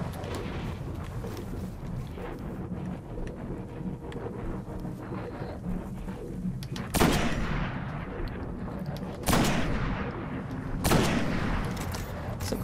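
Gunfire in the Destiny video game: a few sharp, loud shots burst out at intervals over a steady background rumble of in-game ambience.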